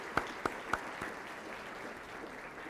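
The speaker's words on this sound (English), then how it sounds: "I would like to give them a round of applause." Scattered applause from an audience at a Lansing volunteers' recognition night in 2009: a few sharp, distinct claps at the start, then a faint, thin patter that fades into quiet room noise.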